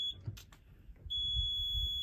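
A geofence alarm system gives a sharp, steady electronic tone that cuts in and holds, piercing and loud over faint room noise, as a reminder to sign out.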